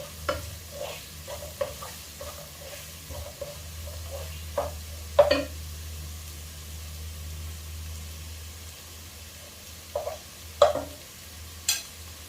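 Beef heart roast cooked Kerala style, stirred and mixed in a pan: scattered spoon scrapes and clinks, with a few louder knocks, over a quiet background sizzle.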